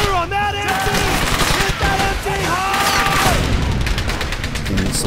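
Rapid bursts of gunfire and machine-gun fire from the World War II shooter game Brothers in Arms: Hell's Highway crackle loudly and continuously, layered with soldiers' shouted calls and a musical score.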